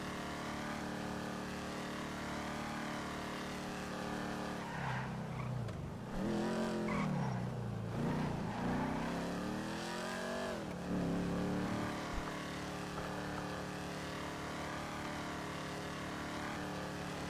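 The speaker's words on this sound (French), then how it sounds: "J'aime bien la Vigero en vrai comme caisse." A Vigero muscle car in a video game drives and revs, with engine tones sweeping up and down and tires squealing through several skids in the middle stretch, fairly faint and continuous.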